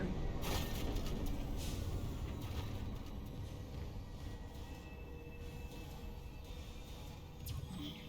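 A video game tram rolls along steadily with a low, continuous rumble and faint clicks, its rail noise fairly quiet throughout.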